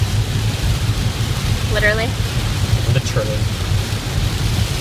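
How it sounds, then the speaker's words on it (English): Steady rain pours outside in a continuous broadband hiss, fairly loud, while people talk briefly over it. "It's raining."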